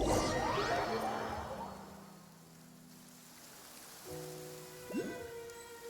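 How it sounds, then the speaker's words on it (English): Rain falls steadily in the Genshin Impact video game, a soft hiss with a few whooshing game effects and some tonal sounds toward the end, and no talking. "It's been raining non-stop for a few days now."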